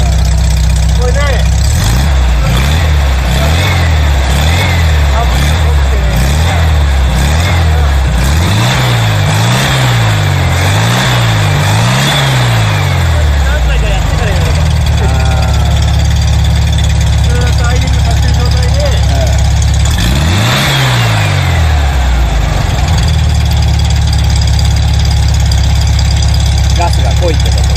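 Volkswagen Karmann Ghia stock engine idling rich with carburetor and ignition trouble, a loud uneven low throb that surges and bogs in repeated blips, with someone talking throughout.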